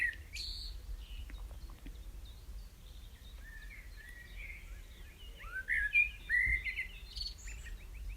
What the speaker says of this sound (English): that was our blackbird again